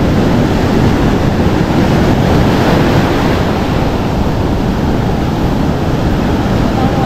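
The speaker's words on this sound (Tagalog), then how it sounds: "Dahil yung alon na pag ganito daw, matagal na matapos to pag ganito yung alon." Powerful ocean surf rolls and breaks on the beach in a constant loud roar, wind noise blending in throughout, with no clear speech.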